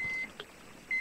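Two short, clear electronic beeps sound in Metro Exodus gameplay, one at the start and one near the end, over a quiet game background with no talk.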